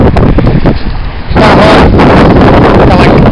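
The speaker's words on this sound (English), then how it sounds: "Goddamn, it's fucking windy as shit." Strong wind buffets the microphone outdoors in rain, a loud roaring rumble that swells and stays heavy after a brief lull, with a voice partly buried beneath it.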